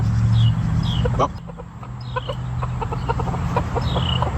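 A chicken clucks and pecks at GrubTerra treats outdoors, with several short clucks and soft pecking taps at close range, while birds chirp faintly in the background.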